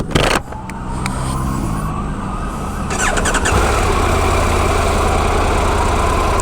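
Triumph Tiger 1200 GT Explorer motorcycle switching on, a brief electronic whine and click giving way to a steady, close engine-like hum that settles and holds evenly.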